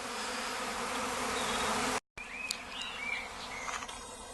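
A swarm of bees buzzes close by in a dense, continuous drone, with a brief dropout midway and a few individual insects zipping past afterward.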